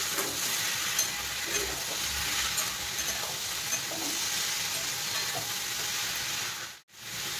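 Green chili and cauliflower fry in a pan for a mixed vegetable dish, producing a steady, loud sizzle and hiss with faint stirring scrapes. The sizzle cuts out briefly near the end.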